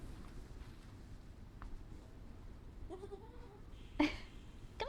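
A goat at a farm bleats twice, a short wavering call and then a sharper one, faint against a quiet outdoor background.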